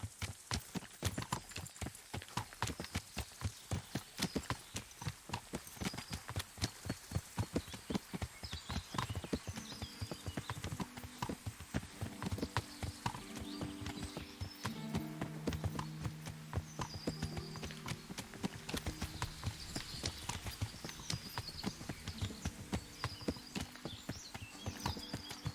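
Steady clip-clop of horse hooves in the medieval game Kingdom Come: Deliverance, a rapid, even rhythm running for the whole stretch, with a faint whinny and soft background tones partway through.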